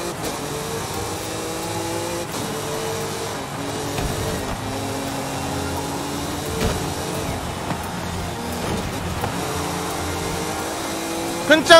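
A car engine in Forza Horizon 5 gameplay drones and revs steadily through a race with rising and falling pitch, loud and continuous, under light game sounds.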